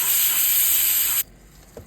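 Coconut, shallots and curry leaves frying in hot oil for a Kerala pumpkin erissery give a loud, dense, steady sizzle that cuts off abruptly partway through, leaving only faint kitchen sounds and a soft clink.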